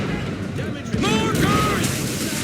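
Mortar fire booms and rumbles during a ship battle in Assassin's Creed 3, a heavy burst of blasts over continuous sea and wind noise.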